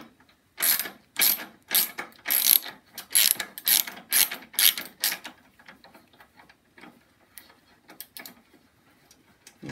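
A ratchet wrench snugs 9/16 bolts on a new steering rack fitted to a Snapper mower, giving loud, close bursts of rapid clicking strokes for about five seconds, then quieter scattered clicks and handling noises.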